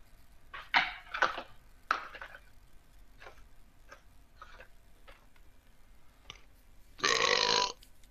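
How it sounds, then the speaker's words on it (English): Several short burps come at irregular intervals over a quiet room, with small ticks and clinks between them, ending in one long loud belch. "Burp."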